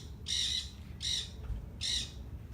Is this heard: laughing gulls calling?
yes